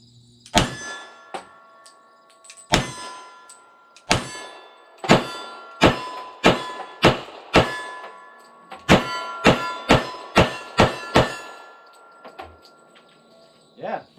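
Beretta PX4 Storm .40 S&W pistol firing outdoors: about fifteen sharp, loud reports, first spaced singly, then in quick strings of several shots with short pauses, each with a brief ringing decay.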